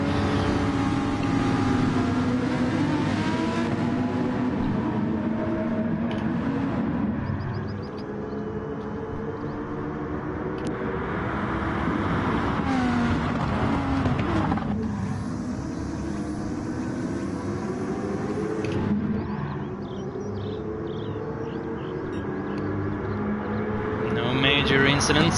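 Race cars in a Swedish Racing League sim-racing game pull away from a rolling start, their engines droning and rising in pitch as they accelerate together, with a commentator talking over the steady roar throughout.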